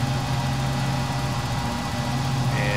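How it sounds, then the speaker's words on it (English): A PMDG Jetstream 41 turboprop in FSX hums at a steady, loud engine drone as it spools up, a constant low rumble with a rising whine entering near the end. "this plane gets pretty loud as the engines spool up"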